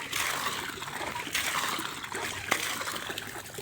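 Water trickles and splashes steadily from a small fountain at a house in Sual, Pangasinan, a continuous close splattering flow with faint voices in the background.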